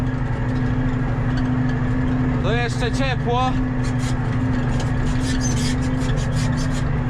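A Pronar tractor's engine drones loud and steady from close by throughout, heard from the cab during tillage before sowing, with someone speaking briefly over it.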